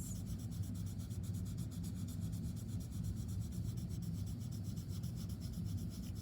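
A blending stump rubs over pencil graphite on paper, a steady close-up scraping that carries on without a break, with no voices.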